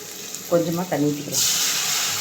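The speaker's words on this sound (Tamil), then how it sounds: "இப்போ இதை கொஞ்சமாக தண்ணி ஊற்றிக்கலாம்." Water pours steadily into a hot pan of sautéed dried-fish thokku with a hissing, sizzling rush, following a brief bit of speech.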